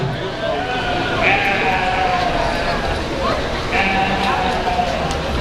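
Sheep bleating at a county livestock show, two clear bleats a couple of seconds apart over steady crowd murmur and indistinct talking.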